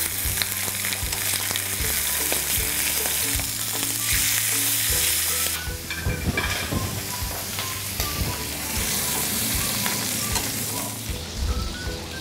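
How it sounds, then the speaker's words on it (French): Chicken legs frying loudly in a pan, a dense, steady sizzle and crackle that fills the whole stretch with no voices over it. "nous avons le temps de lancer en cuisson les cuisses de volaille"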